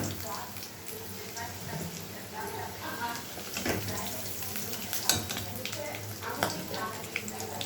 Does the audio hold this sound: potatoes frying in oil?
yes